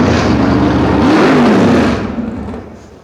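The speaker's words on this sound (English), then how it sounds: "So your friend turned up the engine." A 1958 Pontiac Bonneville with a 370 cubic inch V8 revs up loud and close at an outdoor cruise night, swelling to a throaty peak before the engine settles back down and fades.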